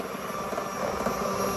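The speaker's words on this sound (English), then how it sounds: "I love this mixer." KitchenAid cordless hand mixer whipping cream: a continuous, steady motor whir with a high whine runs close by for the whole moment, without speech.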